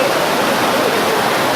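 Phlio waterfall in Chanthaburi pours in a dense, even rush of water, a steady broadband roar with no voices, close and constant throughout.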